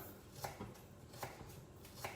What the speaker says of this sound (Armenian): պետք է կտրատեք շատ բարակ, այսպես։